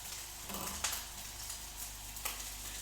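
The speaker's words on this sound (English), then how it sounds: "So our pan is smoking now, so I'm ready to add our steak." A steak hits a smoking-hot pan and settles into a steady, moderately loud sizzle with faint crackles spaced through it, no voices.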